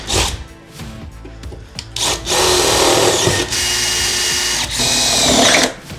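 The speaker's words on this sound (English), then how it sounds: "We're gonna drill these holes now." A power drill with a depth stop bores holes into the floor of a RAM ProMaster van, loud sustained grinding bursts of several seconds broken by short pauses and brief clatter.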